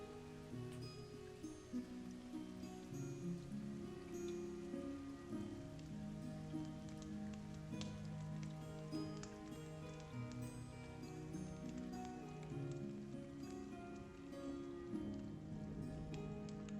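Rain falls outside in a steady, soft patter that continues the whole time, with a low sustained tonal hum underneath and no talking.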